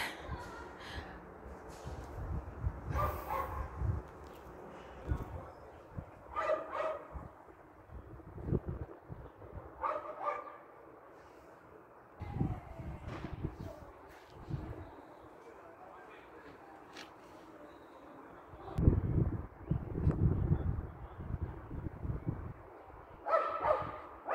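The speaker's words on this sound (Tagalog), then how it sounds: "Maingay ang aso sa baba namin, maingay." A dog barks in scattered bursts, some single and some in quick runs, with pauses between, at moderate distance with background noise.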